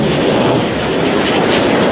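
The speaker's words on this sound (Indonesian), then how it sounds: "Jet Tempur" A fighter jet flies past with a loud, steady broadband engine roar that fills the whole short stretch without letup, and no voices are heard over it.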